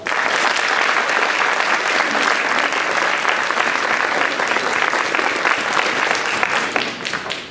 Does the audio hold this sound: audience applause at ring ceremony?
yes